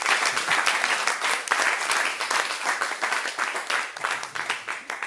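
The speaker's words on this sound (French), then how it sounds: "Veuillez applaudir Thierry Dussard." A French stage show audience applauds a performer: dense, sustained clapping from many hands, loud and even throughout, with no one speaking over it.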